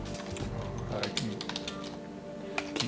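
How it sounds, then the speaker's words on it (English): Quick, uneven keyboard clicks tap close by beneath a person's steady talking. "keep typing"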